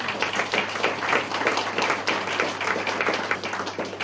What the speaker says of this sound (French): Et là, on va les applaudir carrément.